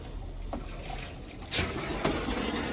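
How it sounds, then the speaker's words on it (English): Water runs and trickles steadily at close range through a shower line into a tub, with a few brief splashy surges over the flow. "let the water pressure kind of run through a little bit, make sure the line's clear"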